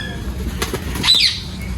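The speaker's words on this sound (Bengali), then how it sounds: "আর এই মোটামুটি কবুতর খাবার খাচ্ছে" Pigeons flap their wings while feeding on a cold winter morning, a single brief flutter of wingbeats rising close by over a steady low background hum.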